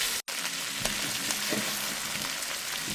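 Shrimp sizzle steadily in hot oil in a pan for Chinese-style fried rice, a close, continuous frying hiss with faint pops and a brief dropout near the start.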